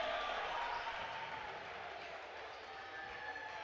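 A college basketball crowd, including the student section, roars and cheers after a dunk in the Rose-Hulman vs. Defiance men's game, a dense wash of noise that slowly fades.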